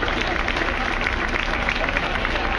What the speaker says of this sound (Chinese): 请大家鼓掌感谢大家的声援